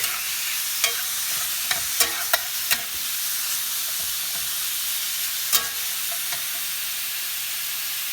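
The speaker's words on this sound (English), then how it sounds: "All right, stir that up in your garlic." Garlic and seasoning for bulgogi are stirred in a hot pan, a constant close sizzle broken by several sharp metallic clicks and scrapes of the utensil, with no voices.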